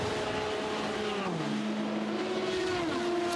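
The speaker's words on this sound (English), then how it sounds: "that P2 car" An LMP2 prototype race car at Le Mans on the exit of Mulsanne corner, a loud sustained engine roar with pitch dropping then climbing again as it accelerates, heard alone without talk.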